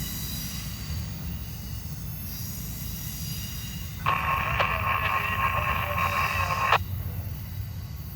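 A freight train climbs Williamsburg Hill with a constant low rumble, then a sustained high metallic wheel squeal rises for a few seconds before cutting off, heard from nearby with no voices.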